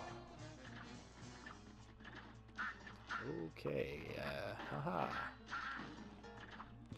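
Cartoonish duck quacks from the Cuphead boss fight Carnival Kerfuffle repeat amid busy game music and effects, with someone talking and laughing over them.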